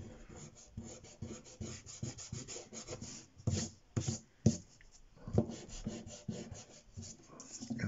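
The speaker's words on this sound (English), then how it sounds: "I've got to press quite hard with this because my eraser is starting to get a bit dirty" Dirty eraser pressed hard and rubbed back and forth across a pencil drawing of hedges, giving close, dry, rasping strokes in irregular bursts with brief pauses, alone without talk.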